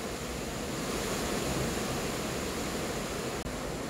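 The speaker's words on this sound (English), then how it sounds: "I open the stop sock in the water hose" Water gushes steadily from the hose outlet of a gravity pump in a lagoon, a dense, constant rushing hiss close by with no talking.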